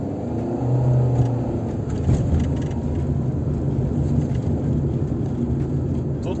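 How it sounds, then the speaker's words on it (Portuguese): A 2023 Fiat Argo Trekking with a CVT pulls away from a traffic light, its engine a steady low rumble that swells gently as the car gains speed, heard from inside the cabin. "Vamos ver como é que ele arranca aqui nesse semáforo"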